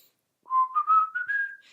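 A single person whistles a short rising tune, clear and close, a few connected notes climbing steadily in pitch after a moment of silence.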